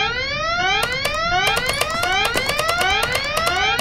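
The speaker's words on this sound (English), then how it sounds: "Why did that alarm go off again?" An alarm goes off in the video game Goodbye Deponia: a repeating rising electronic wail, loud and continuous, with sharp clicking blips layered on top and no talk.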